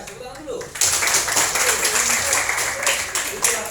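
After a brief moment of talk, a roomful of people bursts into loud, continuous clapping that carries on to the end.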